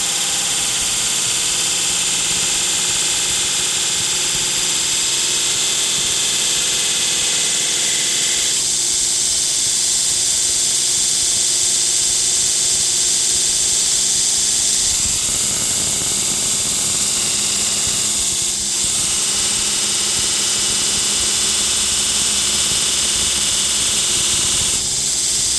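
A Torus 2x72 belt grinder with a 1 horsepower motor grinds 440c stainless steel on a 36 grit belt, giving a loud, steady, hissing roar that shifts in tone as pressure changes, with no talk.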